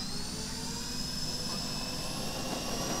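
An Avios C-130 V2 scale turboprop RC model plane, EPO foam with flaps at mid setting, takes off with a steady, loud whine of its electric turboprop engines that holds constant and fairly close throughout.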